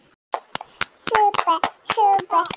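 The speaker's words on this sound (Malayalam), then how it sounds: "നമ്മുടെ പാറുമോൾക്കൊരു വലിയൊരു ക്ലാപ്പ് കൊടുക്കുക" A few sharp claps sound for a young girl who has just sung in a school setting, mixed with children's voices talking close by.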